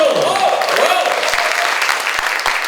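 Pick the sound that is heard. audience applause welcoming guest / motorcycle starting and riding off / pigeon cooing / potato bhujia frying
audience applause welcoming guest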